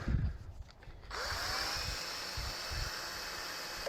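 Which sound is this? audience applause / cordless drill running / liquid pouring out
cordless drill running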